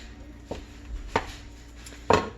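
A spatula scrapes and taps in a pan of cooking sausage for zuppa, breaking it into small pieces, with three distinct close knocks spaced irregularly over a low sizzle.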